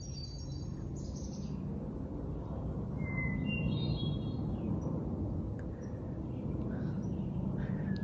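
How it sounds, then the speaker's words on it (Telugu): Faint bird chirps and calls rise briefly over a steady, rushing background noise, at a lakeside in the evening. "ఇక్కడ పక్షులు అరుపులు వినిపిస్తున్నాయి."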